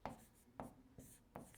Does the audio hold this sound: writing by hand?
yes